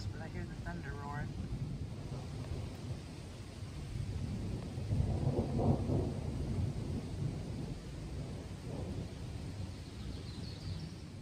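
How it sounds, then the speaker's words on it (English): Low, rolling thunder rumbles through a storm, swelling into a louder roar midway before easing back, with faint rain hiss beneath and a brief bird chirp early on. "Too close, but I hear the thunder roaring."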